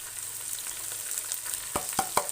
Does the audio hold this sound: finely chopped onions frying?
yes